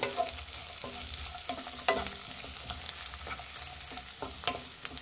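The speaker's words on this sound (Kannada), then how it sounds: "ಈಗ ಇದನ್ನು ಘಮ ಬರೋವರೆಗೂ ಫ್ರೈ ಮಾಡಬೇಕಾಗತ್ತೆ." Cinnamon, cloves and kasuri methi fry in a pan for a paneer butter masala base, giving a soft, quiet sizzle broken by occasional clicks of stirring.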